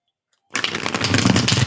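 A dense, crackling riffle of paper-like flutter starts abruptly after a short silence and continues steadily, close and fairly loud, like a deck being shuffled.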